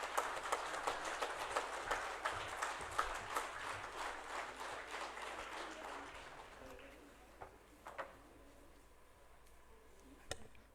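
At a corporate conclave, an audience applauds an award memento presentation with a steady burst of clapping that fades out over several seconds, leaving a few scattered claps and room noise.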